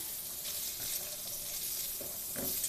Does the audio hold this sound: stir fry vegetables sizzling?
yes